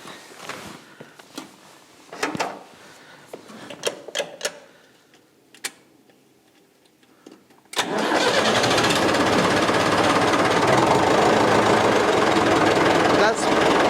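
A David Brown engine that had sat idle for two months is cranked with several sharp clicks and knocks, then catches and settles into a loud, steady run close by.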